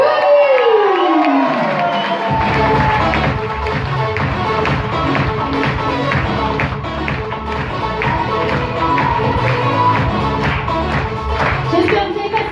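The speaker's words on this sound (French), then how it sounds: "Merci de faire un tonnerre d'applaudissements pour votre responsable" At a holiday resort entertainment show, a crowd breaks into loud, sustained clapping with cheers and whoops for the entertainment team manager. The sound is close and lasts about ten seconds after a brief falling musical tone.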